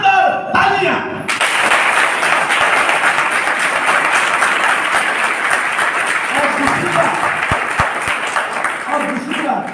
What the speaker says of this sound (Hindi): उसके लिए एक बहुत शानदार तालियां।